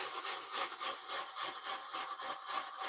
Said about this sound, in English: I'm just rubbing so that I can get all those little pieces off my cutting mat.